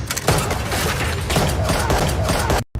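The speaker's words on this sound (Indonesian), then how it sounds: "Kudo langsung menembaki mereka tanpa ragu yang kemudian memicu baku tembak besar antara Kudo, kelompok mafia lokal dan mafia Rusia" Dense, continuous gunfire in a big shootout between gangsters and Russian mafia, loud overlapping shots and booms packed together for nearly three seconds before cutting off abruptly.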